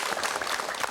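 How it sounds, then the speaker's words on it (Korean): Studio audience applause greets a guest, a university professor, on a Korean KBS talk broadcast; a short steady burst of clapping at full level with no talk over it. "박수로 맞이해 주시기 바랍니다."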